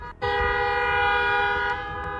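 A long, steady car horn blares close by at a Coachella festival car-camping site, holding one sustained tone for about two seconds after a brief gap, with faint crowd noise beneath.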